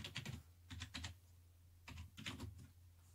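Keys tapped on a computer keyboard while typing a word in WordPad, two short clusters of quick, close clicks separated by a brief pause.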